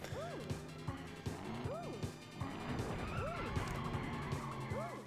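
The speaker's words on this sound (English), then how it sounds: "Wow, big pile up." Cars smashing together in a pile-up in the Cruis'n USA video game on the N64, with repeated loud crash impacts and warbling horn-like tones recurring every second or so over engine noise.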